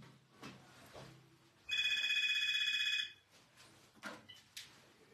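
A telephone bell rings loudly in one continuous burst of about a second and a half, with quiet room sounds and faint movement before and after.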